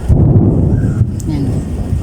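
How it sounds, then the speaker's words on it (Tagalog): Thunder rumbles low and heavily during a dark rainstorm, rolling continuously at close range beneath a voice, with wind buffeting the microphone. "Kumukulog, kumikidlat pa"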